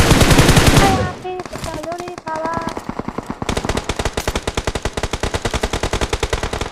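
Gunfire in the mobile battle-royale game PUBG Mobile: a loud burst, a short lull with a voice briefly in the mix, then sustained rapid automatic fire in a steady rattling rhythm.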